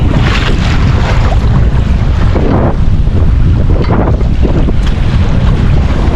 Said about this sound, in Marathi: वारा पण जाम झाला आहे